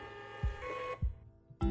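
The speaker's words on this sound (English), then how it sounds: "hit the print button, and your label will print" A DYMO LabelWriter Wireless label printer prints a label: a few soft mechanical thumps and a brief motor whir, close and quiet.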